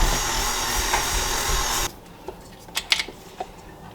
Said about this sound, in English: since I already have this in my stand mixer, I'm gonna allow this to do the work for me, and I'm gonna let it knead the dough